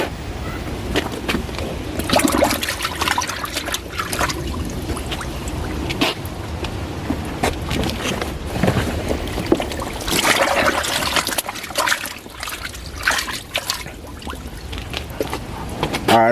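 A Costway portable washing machine churning clothes in water, a continuous splashing and sloshing with irregular bursts, fairly close and steady throughout.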